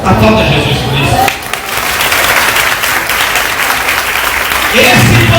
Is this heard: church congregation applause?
yes